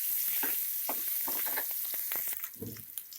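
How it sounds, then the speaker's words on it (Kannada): Chopped onions fry in a pan for a stem-greens saaru, giving off a bright, close hiss with soft crackles and a few stirring scrapes. "ಅಲ್ಲಿ ಗಂಟ ಫ್ರೈ ಮಾಡ್ಕೊಳ್ಳಿ."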